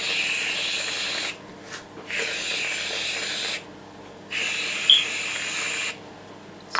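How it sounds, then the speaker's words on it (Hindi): Whipped cream sprayed from a can onto hot chocolate topped with mini marshmallows, heard as several close, broad hissing bursts separated by short pauses. "स्प्रे क्रीम चली गई।"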